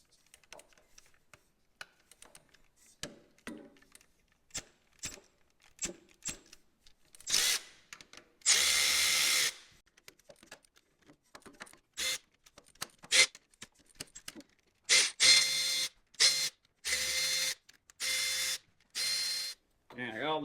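Power tool working bolts loose on the pump of a 1967 John Deere tractor, with repeated short bursts of whirring and rattling, some longer, separated by clicks and pauses, close and fairly loud.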